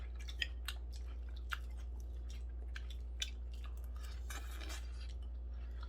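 Boiled eggs being eaten as a diet meal at home, with soft, close, steady chewing and a few sharp bites spread across the quiet clip and no talking.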